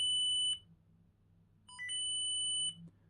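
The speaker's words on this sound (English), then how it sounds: "when you hear that last beep, that means it's calibrated" A Para4ce Spirit Vibes vibration sensor gives two clear electronic beeps during calibration, each a steady high tone held about half a second to a second, separated by a quiet pause.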